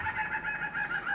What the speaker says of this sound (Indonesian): ada ayam yang ketawa